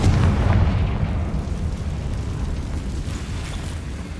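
A Confringo blasting spell erupts in the Hogwarts Legacy video game, a deep rumbling explosion with a heavy low boom at the start that decays into a long, dense roar, loud and without voices.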